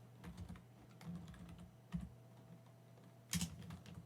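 Quiet typing on a computer keyboard, a few scattered keystrokes and short clusters of clicks over a faint steady hum, with no voices.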